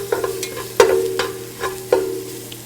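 Minced garlic cooking in a pot for albondigas soup, with several light scraping stirs and a faint sizzle over a steady low hum.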